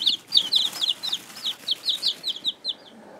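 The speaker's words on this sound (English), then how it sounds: "We'll start with our rooster." A young partridge Cochin rooster chick peeps in a quick series of high, bright chirps, close by and fairly quiet, with short gaps between calls.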